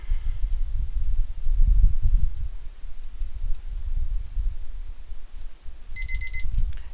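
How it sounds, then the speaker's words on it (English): A timer alarm goes off with a short burst of bright electronic beeps near the end, over low rumbling background noise. "And there goes the timer"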